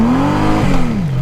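A Honda F6B motorcycle engine revs hard as its rear wheel spins, a loud close droning whine that rises, dips and sinks again over about a second.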